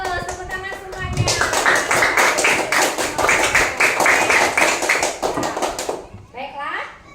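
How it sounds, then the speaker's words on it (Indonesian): Children clap hands together in a classroom, a loud burst of group clapping with a brisk, fairly even rhythm lasting several seconds, framed by a teacher speaking just before and a voice rising briefly at the end. "Tepuk tangan semuanya"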